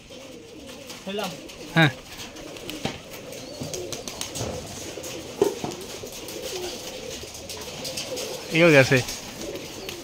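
Rajshahi Giribaz pigeons at a farm, with two brief sharp bird calls standing out over a busy outdoor background while someone speaks briefly.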